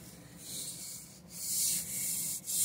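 Worn tire on a 2017 Hyundai Ioniq giving a steady, hissy rubbing noise that swells and dips slightly as the wheel turns, with no voices.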